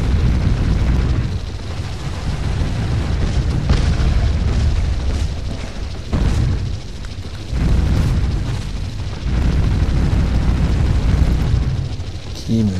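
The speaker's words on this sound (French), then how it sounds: "C'est quoi ces tirs là? C'est explosif et tout là?" Explosive shots in the shooter video game Project Root, heavy booming blasts in rapid succession with brief lulls, loud and continuous, with a person talking over them.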